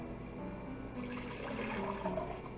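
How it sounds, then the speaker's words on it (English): Beef broth poured back into a cooking pot while making German rouladen gravy, a steady liquid splashing and gurgling that builds slightly in the second half, close and moderately loud with no talking. "We're going to place the broth back in the pot."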